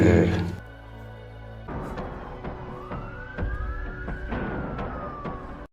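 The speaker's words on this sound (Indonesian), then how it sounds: "terdengar sirene mobil polisi bersahutan di tempat itu" Police car sirens wail with a rising and falling tone in the video game DarkLand 2, over a busy mix of music and voices, moderately loud and somewhat distant.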